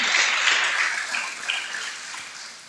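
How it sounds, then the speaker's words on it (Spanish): A church congregation claps loudly together during a Spanish-language service, a dense, steady burst of applause that fades slightly toward the end. "Dele palmas fuertes al Señor."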